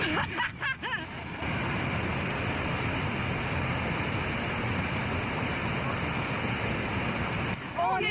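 Water rushes loudly and steadily while someone stands inside a waterfall on Ilha Grande, Brazil, forming a dense, unbroken roar. Brief voices are heard near the start.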